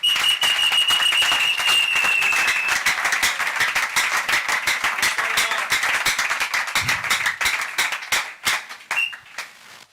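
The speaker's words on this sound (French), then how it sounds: "Tout le monde acclame pour le roi du roi." A church congregation in the Democratic Republic of Congo breaks into loud, dense applause and cheering after a prayer, steady clapping filling the room before thinning into scattered claps toward the end.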